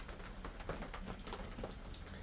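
Rain falling outdoors, a faint, steady patter of drops on surfaces with scattered brief taps, heard alone at low level.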